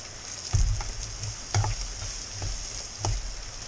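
Annatto seeds sizzle softly in a frying pan, a steady hiss with a few louder stirring scrapes and bumps recurring about every second and a half, no talk.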